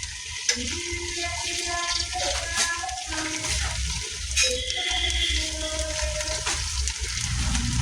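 Green chillies sizzle and fry in a pan, a steady broadband crackle filling the whole stretch with occasional knocks and stirring clatter, close and fairly loud.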